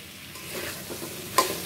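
Potatoes and pointed gourd are stirred and fried in a pan, giving a soft steady sizzle with a few spatula scrapes and one sharper clink near the end, close and fairly quiet.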